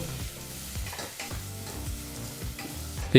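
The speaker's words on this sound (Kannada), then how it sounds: "ಮೂರರಿಂದ ನಾಲ್ಕು ನಿಮಿಷಗಳ ಕಾಲ ಮೀಡಿಯಂ ಫ್ಲೇಮ್ನಲ್ಲೇ ಇದನ್ನೆಲ್ಲ ಫ್ರೈ ಮಾಡ್ಕೋಬೇಕು" Green chillies, curry leaves and onions sizzle in a pan over a medium flame while a spoon stirs through them, giving a steady close frying hiss broken by repeated scraping strokes.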